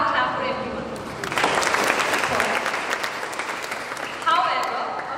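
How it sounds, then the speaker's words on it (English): A hall full of students at a law college orientation claps steadily for several seconds, the applause swelling and then continuing as dense, even clatter, with a voice heard faintly at the start. "So have a clap for everyone."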